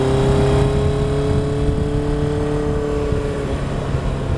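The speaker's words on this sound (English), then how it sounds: "The exhaust that they've gone with on this machine just sounds incredible." A 1980 Kawasaki KZ1000 custom cafe racer motorcycle drones through its aftermarket exhaust at a steady, even engine note, close and fairly loud throughout with no voices.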